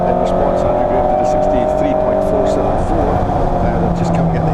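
Fiat 128 Coupe race cars lapping a circuit, their engines a loud, sustained tonal drone with a high whine and rising pitch lines, with a voice talking over the engine noise.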